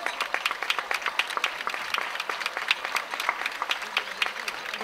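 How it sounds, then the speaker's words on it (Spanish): Crowd applause during a floral romería procession for the patron saint, with sheep being led past, a lively burst of many hands clapping in an uneven rhythm outdoors while people talk over it. "ese aplauso."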